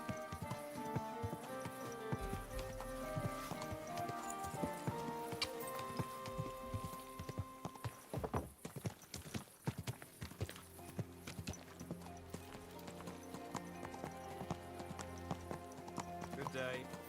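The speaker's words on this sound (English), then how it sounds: "good horse" A horse's hooves clip-clop along at a steady walking pace, close by, with a person talking over the hoofbeats and some background noise.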